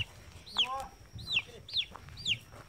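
A backyard chicken clucks in short bursts, four or five quick calls spaced about half a second apart, fairly close over a low rumbling background.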